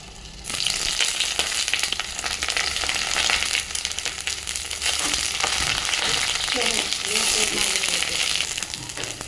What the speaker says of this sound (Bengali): এবার ওই তেলেতেই বেগুনগুলো দিয়ে দেবো আস্তে আস্তে।